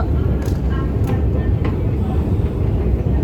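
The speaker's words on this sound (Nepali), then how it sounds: "कुन्टे ट्रेनले यस्तो स्पिडमा ल्यायो कानै डालियो" A London Underground train running at speed fills the space with a loud, steady rumble and rushing roar, with a few brief metallic squeals above it.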